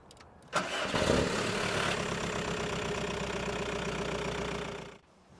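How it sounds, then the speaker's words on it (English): A car engine cranks and catches after being boosted by a Sealey RoadStart RS132 12V emergency jump starter, then settles into a steady close idle for several seconds before shutting off abruptly. "Just connect the RoadStart to your vehicle and start the engine."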